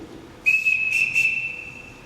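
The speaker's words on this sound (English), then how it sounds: "Everyone in this house answers to a whistle." A single shrill whistle blown on stage during a high school theatre production of The Sound of Music, one long steady piercing tone with a couple of louder pulses, heard alone in a quiet hall.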